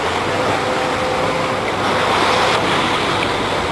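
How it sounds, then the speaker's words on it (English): Ocean surf at Kilauea where molten lava enters the sea, a dense, steady roar of breaking water with wind buffeting the microphone, loud and unbroken. "only place on Earth molten lava is hitting the ocean."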